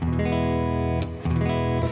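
An electric guitar through a compressor pedal rings out a sustained chord, then a few more chords, with an even, squeezed-level tone and gritty edge, played alone and fairly loud.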